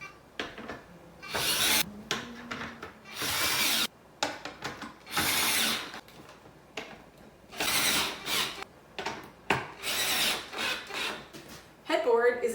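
Screws with washers driven to attach bed legs to a headboard, a power driver whirring in repeated bursts of a second or two, loud and close, with scraping and handling noise between runs.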